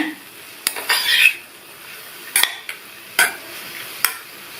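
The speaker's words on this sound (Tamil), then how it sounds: "தேங்காய் துருவல் சேர்த்துட்டு நல்லா ஒரு தடவை மிக்ஸ் பண்ணி விட்டுருங்க" A metal spoon stirs grated coconut into a ridge gourd stir-fry in a pan, with a few scraping strokes and sharp clinks against the metal over a faint sizzle, close by and without talking.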